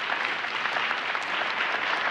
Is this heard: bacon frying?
no